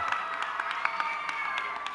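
A junior high school crowd claps and cheers at a youth commemorative vigil, a dense, steady patter of hands and voices heard from the room.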